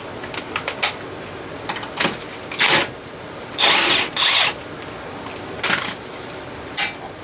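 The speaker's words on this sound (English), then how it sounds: "So you want some kind of an impact, either with an air compressor gun or one of these little bad boys that I just picked up." A cordless impact wrench removes an 18 mm sway bar link nut during front strut replacement on a 1999–2005 Volvo S60. It sounds as several short rattling bursts of varying length, loud and close, with quiet pauses between them.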